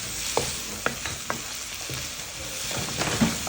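Fried rice being stirred in a hot pan with pepper and seasoning, a steady sizzle under repeated scraping and clinking strokes of the spoon, close and fairly quiet, no talk.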